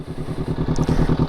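Close, steady idle of a Honda CBR500R with a Leovince GP Corsa Evo exhaust: an even, throbbing parallel-twin beat pulsing rapidly and loudly on its own.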